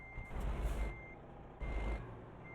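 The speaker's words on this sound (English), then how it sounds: "we're probably going to have to reverse a bit" A big truck reversing in American Truck Simulator, a steady high backup beep sounding over the low engine rumble, with two surges of engine and air hiss.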